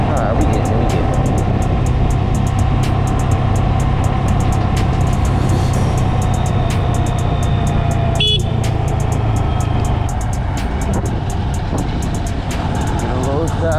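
A 2020 Honda Grom motorcycle engine pulls away with the clutch let out, a steady near drone under wind noise with a brief sharp click midway, while a rider talks over it.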